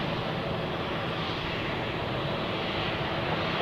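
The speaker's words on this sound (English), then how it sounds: "we have a departure on runway 16" An airliner departs runway 16 at Zurich Airport on an early evening, its engines producing a steady, broadband roar at moderate distance that holds constant throughout with no talk.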